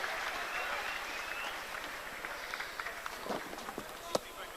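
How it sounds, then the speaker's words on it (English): A football stadium crowd at a Falkirk versus Livingston match gives a warm round of applause for a substituted player, steady clapping heard at a distance under a commentator's talk. "And he well deserves that warm round of applause, Phil Roberts."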